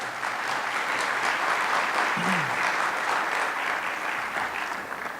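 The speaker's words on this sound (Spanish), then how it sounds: "recibimos con un caluroso aplauso" Warm, steady applause from a conference audience at a Bolivian tax law symposium, welcoming a speaker to the podium; dense even clapping fills the room at a constant level, with a faint murmur or voice briefly rising beneath it.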